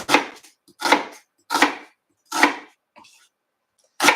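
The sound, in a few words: knife dicing an onion on a cutting board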